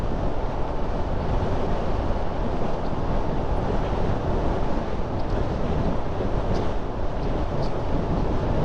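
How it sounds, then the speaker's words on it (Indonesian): Strong wind buffets the microphone continuously while riding a motorbike on a tour along a tree-lined road, a loud, steady roar with no letup throughout. "angin juga lumayan agak kencang"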